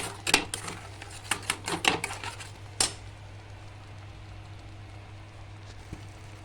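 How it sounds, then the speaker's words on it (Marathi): Spice masala sautéed in oil in a pan for aloo matar bhaji, with a burst of sharp metallic spatula scrapes and clinks over the first three seconds, then a faint steady sizzle alone. "त्या मसाल्याला परतून घेणार आहे आता याला छान तेल सुटेपर्यंत परतून घ्यायचं आहे"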